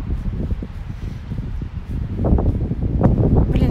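Gusty wind buffets the microphone in uneven low rumbling bursts, growing stronger toward the end, with no one speaking.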